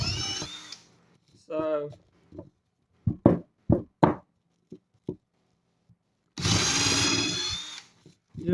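A drill boring a clean 1-inch hole through wood, heard as two bursts of loud whirring, one at the start and a longer one near the end, with a person talking in the gap between them.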